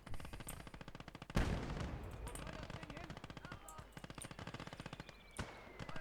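Rapid machine-gun bursts of suppressing fire in the WWII strategy game Call to Arms: Gates of Hell, rattling in steady rhythmic volleys with a sharp heavier bang near the start and another later amid ongoing battle noise.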